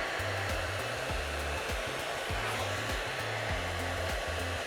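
A VS Sassoon Air Style hot air styler fitted with a firm-bristled paddle brush blows a loud, steady roar of air close up, with rhythmic low thumps from the brush moving through hair and no talk.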